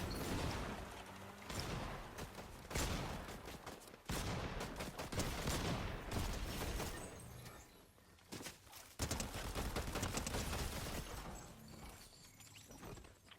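Rapid hip-fire gunshots in the Fortnite battle royale video game, dense loud bursts of automatic fire repeating with brief gaps between volleys.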